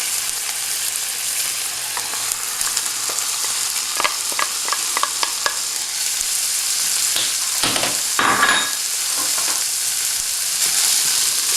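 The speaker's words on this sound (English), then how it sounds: "Now I'm going to add the vegetables to this pan and saute them." Vegetables sizzle in a hot pan alongside browned pork for a pork and peppers omelet, a steady frying hiss with a run of sharp utensil clicks and scraping stirs partway through.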